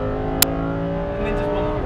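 Lamborghini Huracan Performante pulling hard out of a track corner, a loud steady engine roar with layered harmonics building under the driver's voice, plus a sharp brief click early on.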